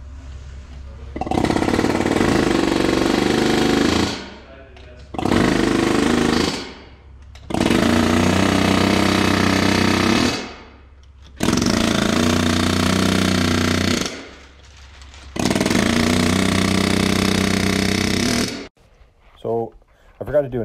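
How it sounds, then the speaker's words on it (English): Loud pneumatic air hammer driving parts into a 6.7 Cummins engine head, firing in five long rattling bursts with brief gaps between, close by, ending with a few faint knocks. "I'm going to use the air hammer before they dry"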